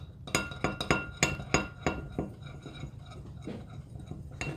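Homemade slime being stirred in a container gives a quick run of sharp clinking taps, about a dozen hits in uneven bursts up close, then settling into quieter scraping near the end.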